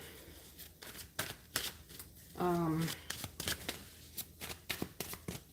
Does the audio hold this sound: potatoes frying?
no